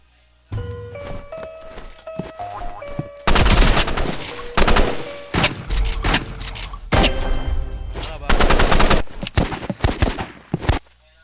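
Rapid gunfire crackles in a shooting video game, with dense machine-gun bursts and repeated loud shots in clusters over several seconds, broken by brief gaps and small chiming game tones.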